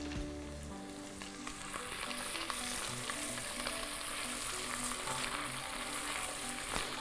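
Tomato paste frying in a pan with seared meat and browned butter, a steady, close sizzle that holds for the whole stretch, with occasional stirring clicks and no voices.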